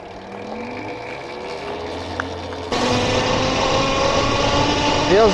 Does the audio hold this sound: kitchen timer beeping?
no